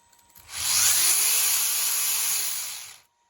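A brushless electric motor in a Redcat Racing Lightning EPX RC car spins up, a loud steady whirring whine with a rising tone that holds for about two and a half seconds, then cuts off.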